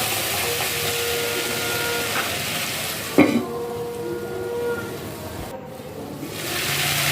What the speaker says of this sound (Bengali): ভাজা ভাজা হয়ে গেছে আবার একটু নেড়ে নেব মাটির কড়া তো খুব গরম হয়ে যায়